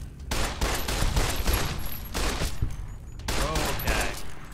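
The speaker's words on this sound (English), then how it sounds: "I guess I'll use the pistol." Rapid pistol gunfire in the Minecraft Fallout Edition video game, loud dense bursts of shots in two sustained volleys separated by a short pause.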